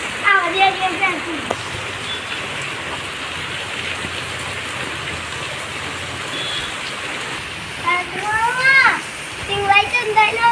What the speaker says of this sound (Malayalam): പിന്നെയും മഴ പെയ്യുന്നുണ്ട് കേട്ടോ